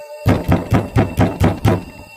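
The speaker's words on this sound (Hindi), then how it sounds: "तभी फिर से कोई दरवाजा खटखटाता है।" Seven firm knocks on a wooden door in a steady, evenly spaced rhythm, loud and close with a slight room echo, and no voices.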